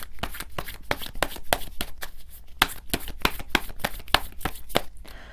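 Tarot cards shuffled by hand, a quick run of crisp, rhythmic riffling bursts close up with no talking.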